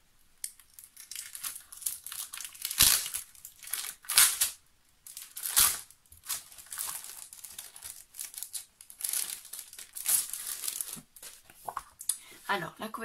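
A 20x20 cm pack of double-sided Stamperia Provence scrapbooking paper, 190 gsm, crinkles and crackles in several bursts of handling, close and fairly loud, with a voice talking between and over the rustles.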